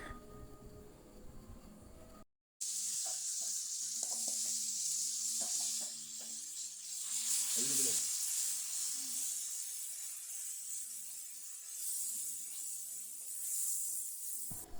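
Ginger fries in a pan for Kerala-style ginger curry (inji curry), stirred by hand: a steady sizzling hiss with intermittent scraping and rubbing as the spoon moves through it, briefly cut to silence early on.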